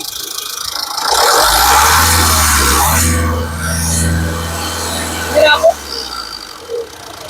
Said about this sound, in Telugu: ఇంజన్ యొక్క నాయిస్ చాలా అంటే చాలా స్మూత్ గా అయితే ఉంది ఒకసారి ఎక్సలెట్